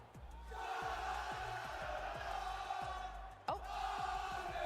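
Crowd of fans roars and cheers at a Fortnite esports World Cup 2023 qualifier event, a sustained, loud wash of voices over a steady thumping beat, with a brief sharp burst near the end.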